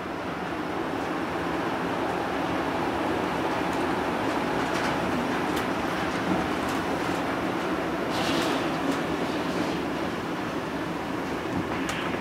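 Automated people mover train at CVG airport riding between concourses, a steady, continuous rolling rumble and hiss heard from inside the car, loud and unbroken throughout.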